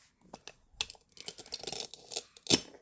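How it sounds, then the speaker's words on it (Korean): Toy play-food radish being cut with a toy knife, giving a handful of short scraping clicks and a sharper snap near the end, close and moderately loud with no talk. "자, 이번엔 무 잘라주세요, 무."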